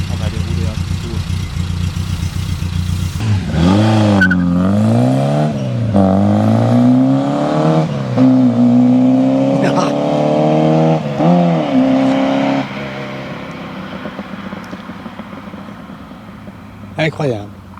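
A Peugeot 205 Rallye pulls away, its engine revving up and down through several rising sweeps as it accelerates and shifts, loud and close from inside the car, with someone talking over it.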